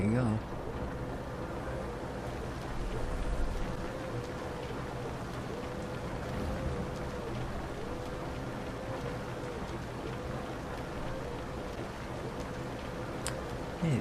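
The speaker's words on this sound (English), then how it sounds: "It's starting to rain." Rain begins falling in the farming game Farming Simulator 25, a soft steady patter layered over a low droning vehicle engine with a faint repeating tone, quiet and continuous with a voice speaking over it.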